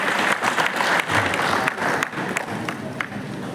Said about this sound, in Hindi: तो बड़े ही तालियों के साथ मैं चाहता हूँ त्रिपाठी सर को आवाज दें, जोरदार तालियां करेंगे।